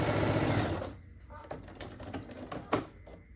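A sewing machine stitches quilt strips at a fast, rattling pace, loud at first and then quieter and more intermittent while a person talks over it.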